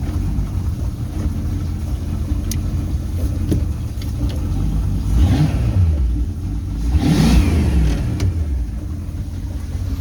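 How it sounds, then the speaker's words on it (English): A 1988 Bayliner Ciera 25 ft boat engine runs loudly at close range, with low rumbling and two swells of revving partway through; no voices. "Engine staying idling."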